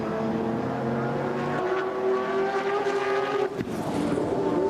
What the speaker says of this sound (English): 2 big Camaros bellow down the front straight here at Levels